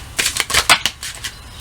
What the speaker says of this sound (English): I'm going to shuffle 2 more times. Shuffling.